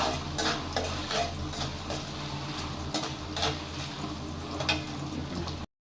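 Tomatoes fry in a pan with a steady soft sizzle, broken by irregular scraping clicks as they are stirred, heard close with no talk.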